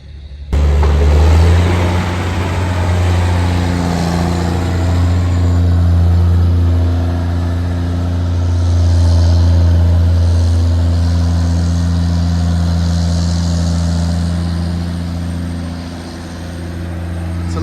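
A silage truck hauling from an alfalfa field drives along under a loud, steady diesel drone with low harmonic rumble and slowly shifting engine pitch, heard from inside the cab with no talk.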